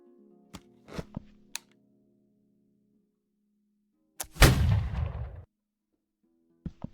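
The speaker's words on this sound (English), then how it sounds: "Nice shooting." Gunfire in a Roblox Napoleonic stealth game: a few sharp isolated shots, then one loud booming blast with a decaying rumble, followed by a last short crack.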